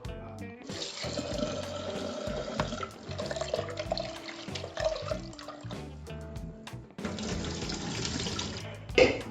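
Tap water runs into a kitchen sink while dal is washed under it, a close splashing stream that pauses briefly midway and resumes, with no talking.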